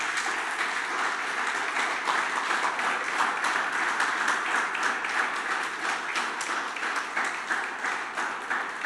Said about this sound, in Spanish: Dale tu mejor aplauso.